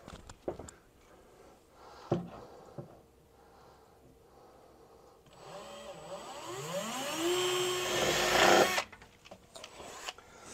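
Power drill boring holes through the bed of a 2024 Silverado truck for a gooseneck hitch, a loud rising and falling whine of about three seconds after some scattered clunks and handling knocks, close by with no talk.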